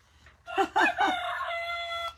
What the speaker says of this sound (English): the rooster has something to say this morning.